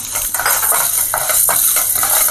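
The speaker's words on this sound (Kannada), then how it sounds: "ಕಡಲೆಬೇಳೆ ಹಾಕೋತಾ ಇದ್ದೀನಿ." Dry chana dal is tipped into a hot pan while making nalgiri huli, giving quick rattling, scraping and clinking hits of lentils and a spoon against metal, close and fairly loud.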